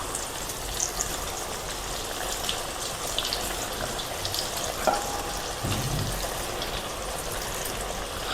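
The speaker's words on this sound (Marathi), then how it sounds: "आता गॅस कमी ठेवलेला आहे, एक एक अशा तेलामध्ये सोडून घेते" Colocasia leaf rolls (alu vadi) dropped one by one into hot oil over a low flame, giving a steady, soft sizzle and bubbling throughout, with a few faint clinks near the pan and no talking.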